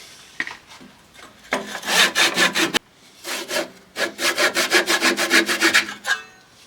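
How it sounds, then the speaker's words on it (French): Rhythmic back-and-forth strokes of a hand saw cutting through wood, two bursts of steady rasping with a short pause between, close and clear. "passez à la scie"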